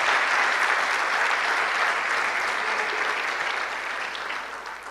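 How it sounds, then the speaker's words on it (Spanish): A church congregation claps in a dense, sustained wash of applause, loud and even across the room, slowly thinning toward the end with no talk over it. "Den un fuerte aplauso al Rey de Reyes"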